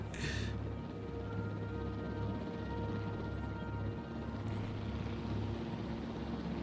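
Helicopter in the video game Jurassic World Evolution, a steady low rotor and engine drone holding at moderate level throughout, with no voices.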